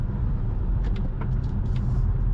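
Polestar 2 electric car pulling onto a highway, a steady loud low road and tire rumble filling the clip with faint brief higher whines, no talking.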